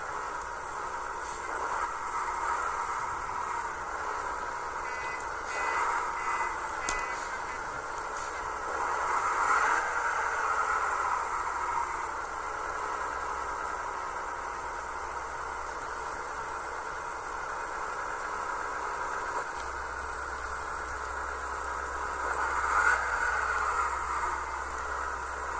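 Heavy trucks manoeuvring while a load is shifted from one truck to another, a steady broad engine rumble and hiss with swelling surges around the middle and near the end, no talk.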